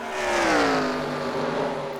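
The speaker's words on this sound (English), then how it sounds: "As you can hear the engines revving up there on the backstretch." Stock-car engines revving along the backstretch at Rockingham during a racing-game race, a loud sustained tone that climbs and then falls as the cars pass, with no talk over it.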